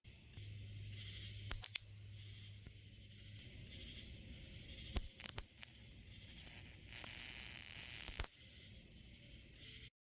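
An electric bug zapper kills insects with a few sharp, crackling zaps scattered over a quiet background, plus one longer sizzling fry that lasts about a second.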